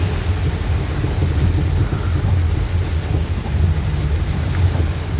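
Rain pours steadily around a car being driven, with a deep rumbling roar that swells and eases throughout and no voices.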